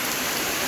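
Heavy rain falls at a flooding campsite in Karak Shilinmen, a steady, dense patter with no voices over it.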